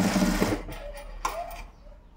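A sewing machine runs briefly while stitching a simple blouse design, a fast whirring burst that stutters to a stop with a couple of short clicks.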